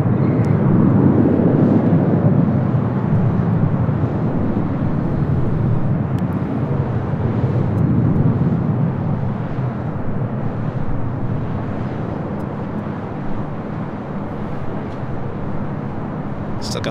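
Boeing 767 airliner, delivered in November 1990, at LAX, a loud low rumbling engine roar that swells early and then gradually eases off, continuous throughout.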